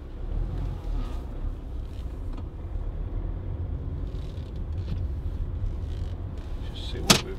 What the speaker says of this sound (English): Those beeps of cars going by behind me.